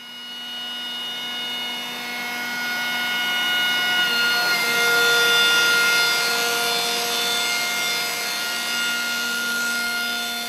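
Vector Revolution 180 panel processing machine working wood panels with banding, trimming and surface scraping in one pass, giving a steady, close mechanical whir with sustained tonal hums that swell slightly midway, with no talk.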